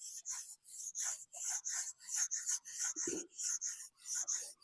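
Close, rhythmic rasping of abrasive paper rubbed by hand around a damaged engine crankshaft, about a dozen quick back-and-forth strokes with brief gaps and a soft knock midway.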